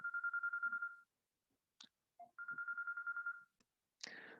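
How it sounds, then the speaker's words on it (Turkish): A telephone rings indoors in two bursts of rapid electronic trilling, each about a second long and separated by silence, with a couple of faint clicks and a brief rustle at the end. "telefon çaldı. Telefonu etkisiz hale getirdim."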